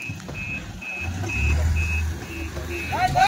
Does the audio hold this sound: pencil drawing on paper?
no